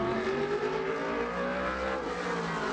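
A modified race car runs a qualifying lap at Bowman Gray Stadium, its engine a loud, steady, close roar with rising and falling pitch as it drives through the short track.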